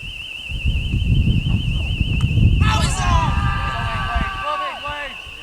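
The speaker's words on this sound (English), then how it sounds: "The village hall alarm's going off." A building alarm at a village hall near a cricket match wails as a steady warbling electronic tone throughout, under loud wind buffeting and crowd or player noise, with a burst of other chirpy sounds partway through.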